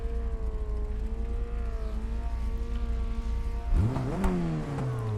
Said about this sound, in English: is that engine noise really necessary?